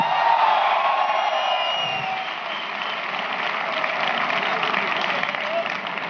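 Audience applause at a Hindi-language network marketing leadership event, a broad steady wash of clapping with some cheers and whoops from the crowd, loud and sustained for the whole stretch.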